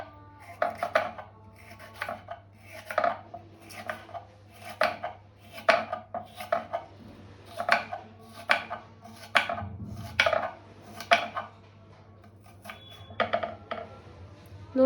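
Bitter gourd (karela) being cut with a knife into medium slices on a board, making close, crisp chops in quick rhythmic bursts separated by short pauses, with a low steady hum underneath.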